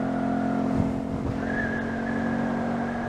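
A Honda Grom MSX125 motorcycle cruising at about 46 mph, its steady engine drone holding constant under loud wind rush with no talking.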